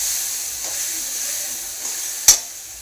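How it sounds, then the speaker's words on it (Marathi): Brinjal roasts in a pan with a constant soft sizzle and hiss, and one brief sharp scrape of stirring stands out near the end. "आता हे पण छान भाजून घ्यायचं आहे।"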